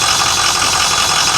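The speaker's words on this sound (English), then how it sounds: "Definitely got an exhaust leak under there." An old diesel bus engine with an exhaust leak idles close by, a loud, steady rumbling drone with a faint rhythmic pulsing and hiss, no voices.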